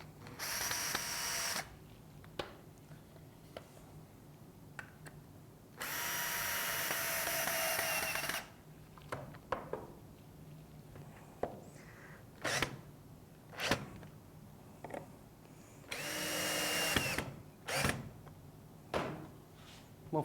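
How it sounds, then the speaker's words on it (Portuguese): A power drill drives a wood screw into a wooden shelf bracket, with two long sustained whirring bursts and a shorter third burst separated by scattered knocks and clicks of handling, close and fairly loud. "E vou parafusar."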